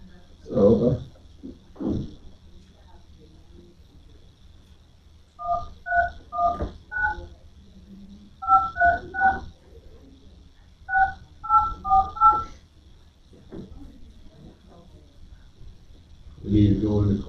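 Telephone keypad tones ring out in quick clusters of beeps as a number is dialed on a phone in a county supervisors' meeting room, with brief voices before and after.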